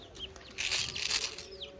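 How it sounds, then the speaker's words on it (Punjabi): Wings flap in a sudden burst, with chicks chirping and faint clucks around it, close by and fairly loud. No one speaks. "ਚਲੋ ਵੀ ਚੂਚੇ ਬੰਦ ਕਰ ਗੁਰੀ"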